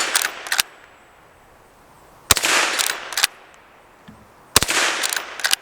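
Three sharp cracks of a Henry .22 Magnum rifle fired at a steel spinning target on an outdoor range, each shot followed by a ringing clang and a brief rattle as the spinner turns, spaced about two seconds apart.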